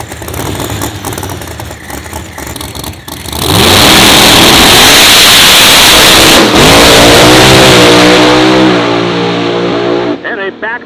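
A procharged Hemi-powered 1966 Chevelle roars through a drag racing shakedown run, its engine idling briefly before a sustained full-throttle howl with rising gear pulls, close and loud, then backing off near the end.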